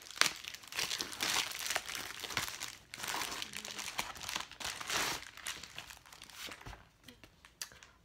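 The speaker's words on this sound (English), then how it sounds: "Today I'm going to be doing the unboxing of my Ipsy for July 2016" Wrapping on an Ipsy July 2016 beauty-subscription package crinkles and tears in near, continuous bursts for several seconds, with no one talking.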